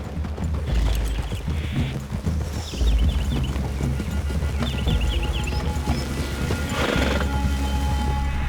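Horses in a Red Dead Redemption 2 game scene neigh and whinny loudly over steady clip-clopping hooves, with a second whinny near the end and a constant low rumble beneath.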